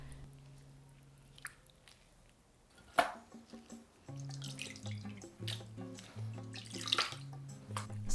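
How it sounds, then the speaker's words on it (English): Raw chicken pieces are rinsed and washed by hand in water, with splashing, dripping and sloshing sounds close up, some sharper handling knocks, and no one talking. "Wash well and drain."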